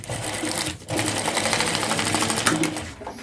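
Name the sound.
sewing machine stitching fabric facing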